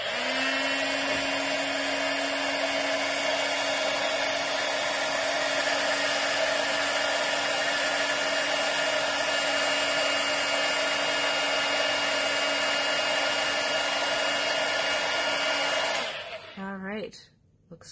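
A heat embossing gun blows hot air in a steady, loud whir for about sixteen seconds, then switches off and winds down with a falling pitch.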